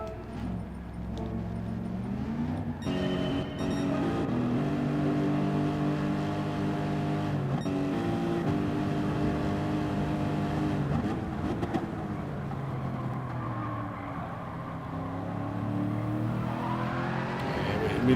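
Race car engines in Gran Turismo 7, Group 3 cars on the Dragon Trail Seaside circuit, rev and drone steadily throughout, with pitch rising and falling through gear changes as the cars accelerate.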